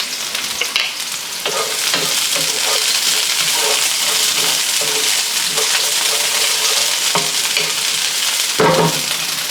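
Onions sautéing in a hot pan for salt and pepper tofu, a steady close sizzle and frying hiss with scattered stirring scrapes throughout.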